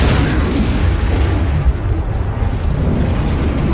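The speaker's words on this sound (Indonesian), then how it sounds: "segera meledakkan gas tersebut yang membuat mobil van terguling" A gas-filled van explodes in a loud, sustained roar, broad and heavy with a deep booming low end, filling the whole span.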